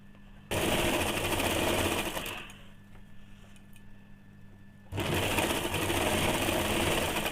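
A sewing machine runs a steady stitching pass around a salwar for about four seconds, stops briefly, then starts again and runs loud and continuous to the end. No one speaks.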